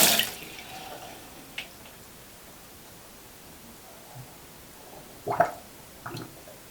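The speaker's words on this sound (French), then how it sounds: "je mets un peu d'eau pour que vous voyez que ça a du mal à s'écouler chez moi" Water runs slowly down a partly clogged sink drain at home, opening with a brief splash. Quiet hiss follows, then faint drips and a couple of soft gurgling bursts near the end.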